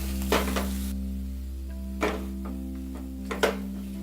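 Boiled potatoes being mixed with spices in a hot pan for a poha kachori filling: three soft scraping stirs over a steady low cooking hum, with no talk.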